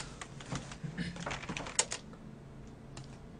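Computer keyboard keys clatter in quick, uneven bursts of close clicks and taps, with one sharper key hit near the middle. Typing is steady throughout, with no speech over it.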